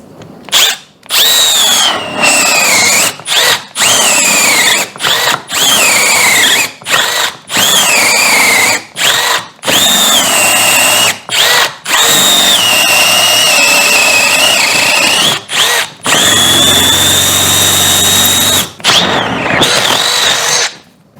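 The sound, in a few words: cordless drill boring a hole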